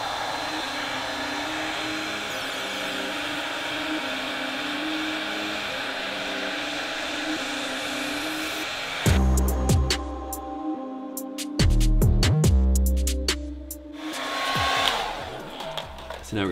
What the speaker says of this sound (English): So let's grab that hair dryer.